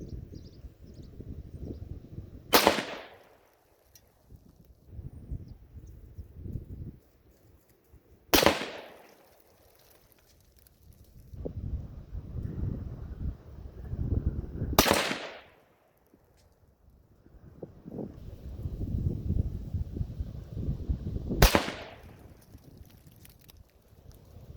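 A 6.5 Grendel rifle firing 130gr Sierra Tipped GameKing rounds outdoors in a 10 to 20 mph crosswind: four loud, sharp shots spaced several seconds apart, with gusting wind rumbling against the microphone between them.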